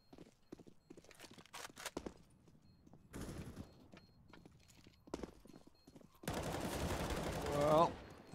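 AK rifle fire in the video game CS:GO, a sharp burst near the end over sparse footsteps and scattered game clicks, with earlier isolated gunshot cracks, fairly quiet overall.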